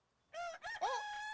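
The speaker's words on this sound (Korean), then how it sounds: "아, 닭의 울음소리였군요." A rooster crows once, a fairly faint cock-a-doodle-doo of three rising and falling notes heard alone after a moment of quiet.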